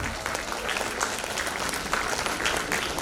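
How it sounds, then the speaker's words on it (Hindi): An audience applauds chief guests at a school town hall felicitation ceremony, with steady, dense clapping throughout at a fairly even level. "Sir and ma'am, please, everyone clap for them"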